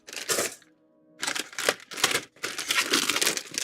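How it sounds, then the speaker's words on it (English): Plastic bags crumpled and crinkled by hand in several bursts, close up, with a short pause near the start. "I'm gonna throw away these plastic bags"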